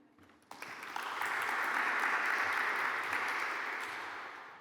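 Audience applause for Brandon at an ecommerce agency summit held in a jazz club in Edinburgh, starting from a quiet room, swelling within a second into a full steady clapping that fades slightly at the end.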